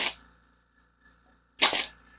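A nail gun fires twice into a wooden jigsaw puzzle board, two sharp, loud, close percussive bangs about a second and a half apart, with near silence between them.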